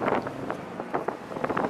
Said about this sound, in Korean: 서풍이 조금 세게 불고 있는데